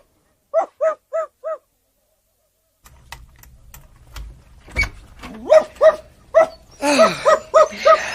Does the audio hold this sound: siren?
no